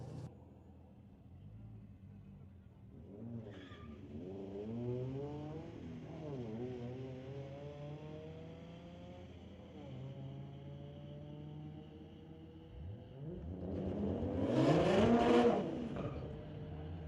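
At a street-legal drag race at Mission Raceway Park, a Subaru BRZ and a Volvo rev with rising, stepping engine notes, followed by a loud roaring burst near the end. The sound carries over a faint background rumble.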